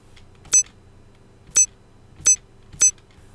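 Four short, bright electronic computer console beeps ring out at uneven intervals over a faint low hum, each crisp and isolated.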